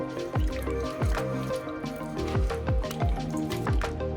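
A ball of homemade butter being washed and squeezed by hand in cold water, a close series of wet squishes and drips in an irregular rhythm, with no speech.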